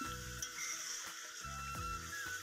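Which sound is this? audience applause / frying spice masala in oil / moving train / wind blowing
frying spice masala in oil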